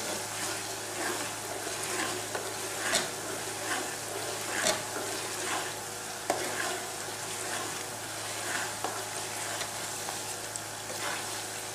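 Tomato sauce for Nigerian plantains and gravy fries in a pot under constant stirring. A steady, moderate sizzle carries periodic scraping clicks from the spoon against the bottom, with no talking.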